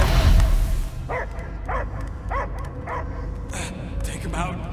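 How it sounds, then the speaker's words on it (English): A dog in the Guardians of the Galaxy video game barks in a quick series of sharp yips, about five clear barks spaced evenly after a loud opening burst, over game background sound. "I hear only barking."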